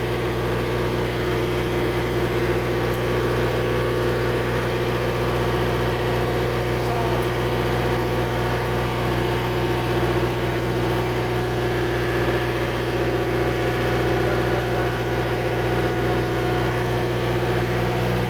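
Generator running beside a three-phase automatic transfer switch setup, a steady loud droning hum with strong low tones, unchanging throughout with no talk.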